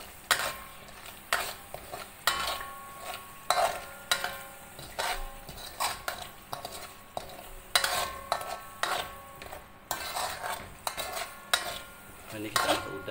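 A utensil stirs cumin and fennel seeds in a pan in repeated rhythmic scrapes, clinking and rattling against the metal with a faint sizzle, close and fairly quiet, no talking.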